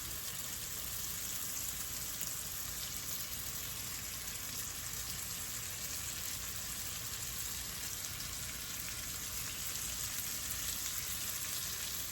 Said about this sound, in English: now we're gonna add our sausage